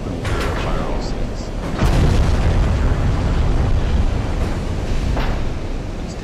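Warship guns fire a broadside in Ultimate Admiral: Dreadnoughts, a heavy rumbling boom that swells and rolls on like surf before fading slightly.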